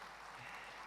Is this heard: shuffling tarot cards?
no